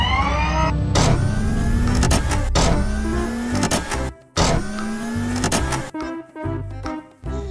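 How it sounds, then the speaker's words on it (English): A toy robot car runs with a loud, close electric motor whine that rises and falls in repeated sweeps, broken by brief pauses and clattering bursts. "Wow, this is a robot car."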